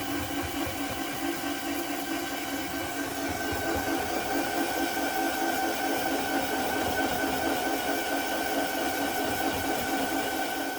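A rotary tumbler or polishing machine runs continuously while polishing a vintage German swirl marble with 3000 grit, a steady mechanical hum with fine rapid rattling, even and unbroken at moderate volume.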